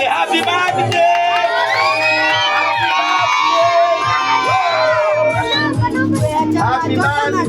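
Guests at a child's first birthday party ululate and cheer, high trilling voices rising together in a loud, close burst of celebration, with shouts and children's cries mixed in.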